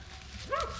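A dog gives one short, sharp bark or yelp near the end during a hunt, fairly close and over quiet background noise.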